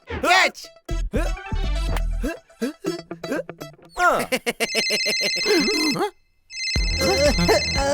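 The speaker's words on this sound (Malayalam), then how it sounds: "നാശം പിടിക്കാൻ ആരുടെ മൊബൈലിൽ കിടന്ന് അടിക്കുന്നത്?" A mobile phone ringtone rings in repeated bursts of bright electronic tones in a cartoon scene, broken by a short pause, with talk and music earlier in the scene.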